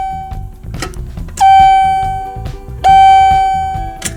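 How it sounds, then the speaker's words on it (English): Chime fitted inside an old elevator call button, two loud sustained bell-like tones ringing out one after another, each decaying slowly, close up over a busy background of music. "I even put a chime in it."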